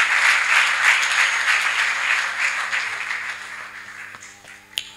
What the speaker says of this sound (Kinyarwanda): Mumfashe tumukomera amashyi.